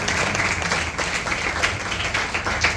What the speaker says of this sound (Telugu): దానికి ముందే మనం చప్పట్లు కొట్టి దేవుడిని కనపడాలి.